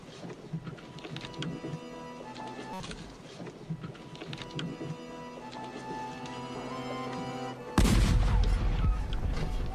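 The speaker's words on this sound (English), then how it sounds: "His funeral featured a 22-gun salute from all the ships in Port Royal Harbour" A 22-gun salute of cannon fire from ships in Port Royal Harbour rumbles under a droning tonal bed. A heavier booming burst breaks in near the end and stays loud.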